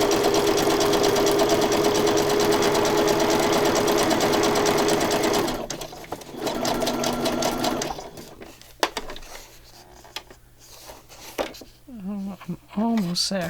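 A sewing machine stitches tab binding on a pocket journal, running in a loud continuous whir, then stopping and restarting in short bursts with pauses while a person speaks briefly.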